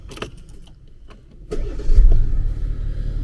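Keys jingle briefly, then a car engine cranks and catches, settling into a steady low rumbling idle close by.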